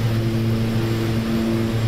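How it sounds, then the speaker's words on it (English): Steady droning propeller engine of an OV-10A Bronco in flight in a combat flight simulator game, a continuous low hum with even tone and no talk. "I like this airplane."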